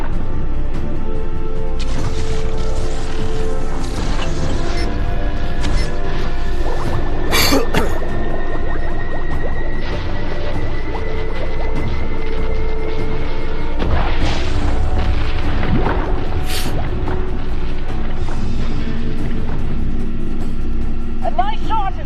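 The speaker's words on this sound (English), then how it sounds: "that explosion should do the trick" Kinesium charges explode against a giant squid in the game IEYTD 3: a couple of sharp booming blasts stand out within a dense, continuous game soundscape, with a voice talking throughout.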